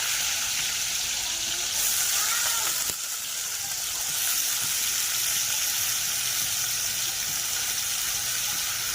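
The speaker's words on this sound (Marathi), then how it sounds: "आता आम्ही बटाटे टाकणार आहोत तेलामध्ये" Chopped potatoes go into about three ladles of hot oil for a Pandharpur-style sabudana khichdi, producing a steady hissing sizzle with a brief clatter and a sharp rise in bubbling as they drop in, no talk.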